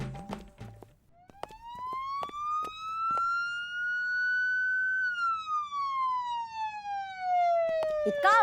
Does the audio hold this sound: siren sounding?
yes